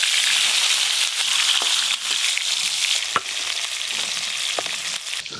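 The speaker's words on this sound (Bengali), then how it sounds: "লবণ হলুদ ভালো করে মাখানো হয়ে গেল, এবার মাছগুলো ভেজে নেব।" Fish rubbed with salt and turmeric sizzles steadily in a hot pan, a dense continuous crackle with occasional sharper pops and soft stirring knocks, close and fairly loud with no talk.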